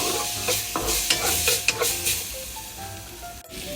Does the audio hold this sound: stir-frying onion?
yes